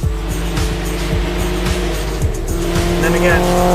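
A Nissan rally car at the Iron Mule Rally 2023 race day, its engine revving hard and steady while tires squeal and skid on the stage, loud and close throughout.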